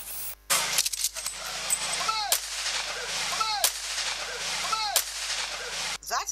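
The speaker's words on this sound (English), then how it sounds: "That 3 salute gunshots by the officers of the Nigerian Army signifies the last military honor" Rifle volleys ring out at a Nigerian Army military funeral salute, sharp loud gunshots repeating at regular intervals with echoing tails across open ground.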